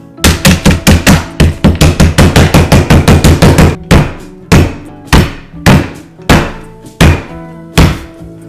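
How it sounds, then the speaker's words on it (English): A rolling pin pounds candy canes inside a plastic bag with loud, sharp thuds, first in a rapid run of many strikes, then slowing to spaced single blows close by. "I'm gonna beat them with a rolling pin."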